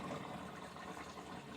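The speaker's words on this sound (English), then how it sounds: "Right now it's just barely over the pump, so the water has to fall further." Water splashes from a pump into the shallow reservoir of a DIY whole-house humidifier, the level barely covering the pump, so it drops farther. The sound is a faint, steady, close trickling hiss.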